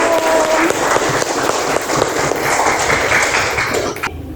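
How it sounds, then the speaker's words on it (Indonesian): Classroom applause for the first student group after their presentation on electrical energy, a dense burst of many hands clapping at close range that runs steadily and then cuts off abruptly near the end. "beri tepuk tangannya untuk kelompok 1"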